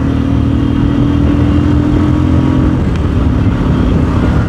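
Royal Enfield motorcycles, a Hunter 350 and a Classic, race on a Sunday ride, their engines giving a steady, loud, continuous drone with a low thumping rumble and some wind noise throughout.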